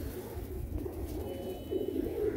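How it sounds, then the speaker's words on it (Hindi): Golden pigeons coo in low, continuous murmurs close up, forming a steady dense background of soft calls. "ये वो कबूतर दिखा रहे हैं हम आपको जो रिजल्ट वाले हैं"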